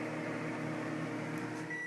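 A microwave oven runs with a steady electric hum and whir throughout, ending in a brief faint electronic beep, with no talking over it.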